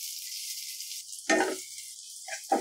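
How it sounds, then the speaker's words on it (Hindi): Chopped capsicum fries with onions in a pan, giving a continuous bright sizzle with a couple of soft stirring clatters near the end. "इसको भी हम प्याज के साथ थोड़ा सा भुनेंगे।"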